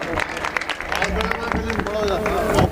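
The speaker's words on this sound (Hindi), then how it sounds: "एक बार जोरदार तालियों से उनका स्वागत।" Listeners at a mushaira poetry gathering in Rasoolpur, Bijnor, applaud to welcome a poet, a busy, continuous clatter of clapping hands and crowd murmur, with a voice speaking over it.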